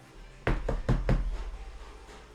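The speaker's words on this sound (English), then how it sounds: "You hear a knock on the door." Four sharp knocks on a door in quick, even succession, loud and close, followed by a short fading resonance and a faint fifth tap.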